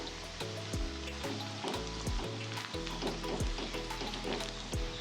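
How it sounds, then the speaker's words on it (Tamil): Crushed garlic frying with onions in a pan, a steady close sizzle broken by repeated scraping stirs. "பூண்டு இடித்து வச்சுருக்கேன், இதை சேர்த்துக்கிறேன்."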